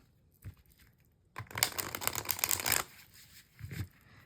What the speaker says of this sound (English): shuffle like this and cut them a bunch of times